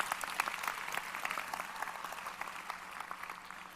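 Audience applause at a leadership talk, a dense, steady patter of many hands clapping at moderate distance, continuing evenly throughout without any speech over it.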